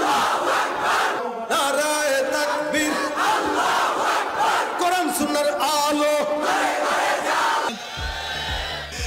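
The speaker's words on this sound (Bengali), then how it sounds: "চলুন ইসলামের এই মহান স্লোগান নারায়ে তাকবীর আল্লাহু আকবার স্লোগানটি আমরা শুনে আসি" A large crowd chants the Islamic slogan Naraye Takbir, Allahu Akbar in loud, repeated call-and-response bursts. The voices swell and fall in rhythmic waves and keep up throughout.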